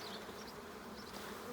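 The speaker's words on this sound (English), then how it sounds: "I'll just shake some bees off." Honeybees hum in a dense, steady buzz as they are shaken off a brood frame during a hive inspection, close by and fairly soft, with no talking.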